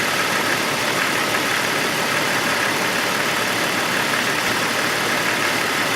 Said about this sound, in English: The engine is just burping a little bit